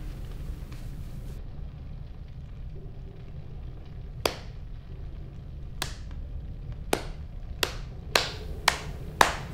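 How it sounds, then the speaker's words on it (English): One person claps alone in a quiet room: a few scattered, sharp claps that speed up toward the end over a low, steady background hum. "Why are you clapping for that?"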